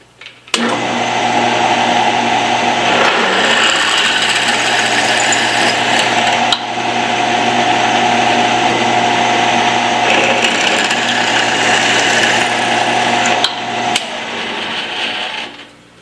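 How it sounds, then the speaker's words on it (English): An aluminum intake piece for an Indian Larry panhead tribute build is machined to diameter on a lathe, a loud steady whirring whine with a high cutting hum, starting abruptly and running close and continuous with brief interruptions. "We'll machine this to the correct diameter"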